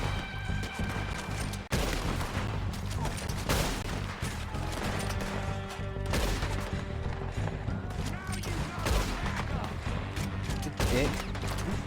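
Gunfire in Red Dead Redemption 2: a steady barrage of loud, overlapping shots and sharp cracks that keeps going throughout, with game noise underneath and a voice talking now and then.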